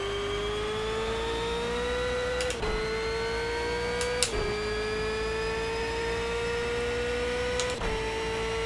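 Ford Mustang BOSS engine in the racing game Project CARS, a loud, continuous whine that climbs steadily, then dips briefly at three gear shifts before rising again, with no talking.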